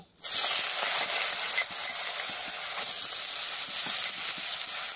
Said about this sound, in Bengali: এবার কেটে রাখা আলুগুলোকে ভেজে নেব।